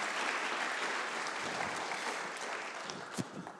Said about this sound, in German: Nochmal Ihr Applaus.